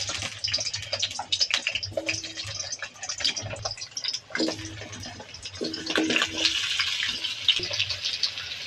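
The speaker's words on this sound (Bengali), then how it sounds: "তেলটা তেতে গেছে আলুগুলো দিয়ে দেবো" Potatoes sizzle in hot white oil in a karai for a chicken dish, a close, busy hiss of crackling bursts and spitting that swells and fades as the pieces settle in the pan.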